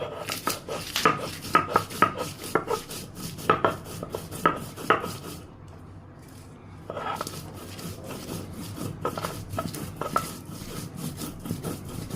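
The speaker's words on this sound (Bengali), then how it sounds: "এখন এটাকে শিল পাটায় ভালো করে বেটে নিতে হবে" Green chilies, garlic and onion ground by hand on a stone grinding slab, with repeated rubbing and scraping strokes, a short pause midway, then steady grinding again, close and fairly loud with no talking.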